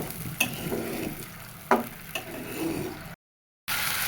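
Spice paste (masala) for a free-range chicken curry fries in a pan, giving a steady sizzle broken by sharp spatula scrapes and knocks, then a short total dropout before the sizzle returns.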